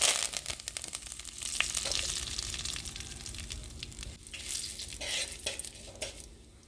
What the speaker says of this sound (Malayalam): എണ്ണ ചൂടായിട്ടാകുമ്പോൾ കടുക് പൊട്ടിച്ച് കറിവേപ്പിൽ ഇട്ട് കൊടുക്കാം